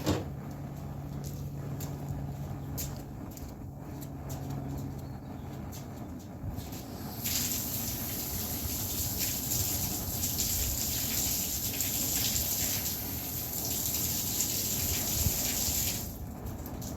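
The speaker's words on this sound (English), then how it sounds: "These need one more rinse before I put them in the pot, so I'm going to go rinse them" Water runs steadily from a tap as wild curly dock greens are rinsed, a continuous hiss and splash alone with no talk, louder in the second half.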